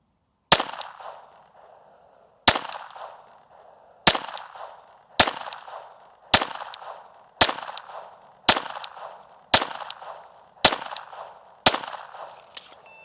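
Ten sharp, loud pistol shots on an indoor shooting range during a GSSF league course of fire. They are spaced about a second apart in a steady rhythm, and each crack leaves a short reverberant tail.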